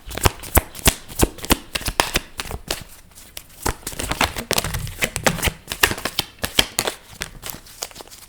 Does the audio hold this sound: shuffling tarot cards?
yes